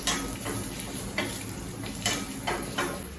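Coconut pieces sizzle and crackle steadily as they roast in a hot pan, with a few sharp scraping stirs breaking through the continuous frying hiss.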